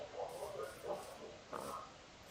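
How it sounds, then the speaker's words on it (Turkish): Soft video game pig grunts and snorts in a few short bursts, fairly quiet and low, with a faint steady background behind them. "Şimdi Aga domuz sesi geliyor da domuz nerede işte?"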